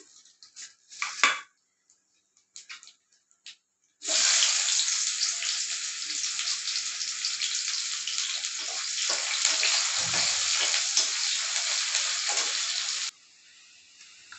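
Potatoes frying in a pan make a steady, close sizzling hiss that starts abruptly, holds for about nine seconds and then cuts off, preceded by a few light kitchen clatters.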